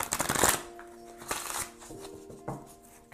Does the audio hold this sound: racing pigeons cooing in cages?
no